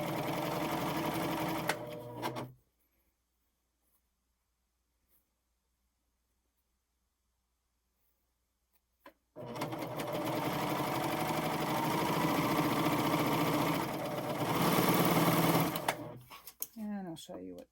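A Pfaff Admire Air 7000 sewing machine with a piping foot and cording guide stitches piping into fabric. It runs in a short burst, falls silent for several seconds, then hums steadily again in a longer run, with a voice briefly at the end.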